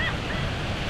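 Sea waves wash steadily onto a beach in Alanya, Turkey, a continuous loud roar of surf with some wind noise and no pauses.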